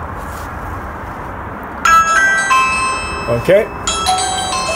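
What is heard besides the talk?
Ring Video Doorbell Pro chime through Ring Chime extender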